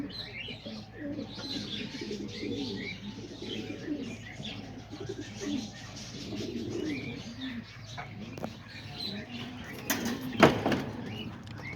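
White pigeons cooing steadily in a loft, soft overlapping coos with a few chirps throughout and a brief sharp clatter near the end.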